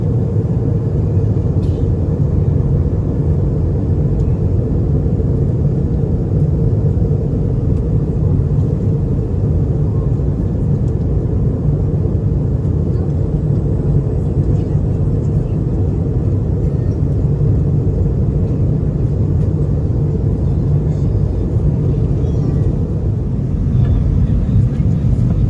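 Steady, loud low rumble of a Delta Airbus A320 cabin during descent, an unbroken drone of engine and airflow noise filling the whole stretch without a break.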